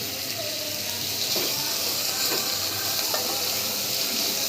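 Vegetables for a spiced kuruma, with salt added, sauté in a pot with a steady, close sizzle that holds evenly throughout, with a few faint scrapes of stirring underneath.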